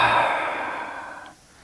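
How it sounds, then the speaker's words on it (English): One long, deep belly breath drawn out and slowly released during a hatha yoga flow, a soft airy rush close by that fades out after about a second and a half. "Nice big belly breaths."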